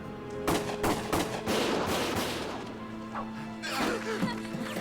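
Gunfire rings out in the Valkyria Chronicles prologue battle in Gallia, a run of sharp overlapping shots and crashes scattered across a few seconds, loud and close, with shouted voices mixed in.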